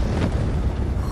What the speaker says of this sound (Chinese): 后方怎么发生大爆炸了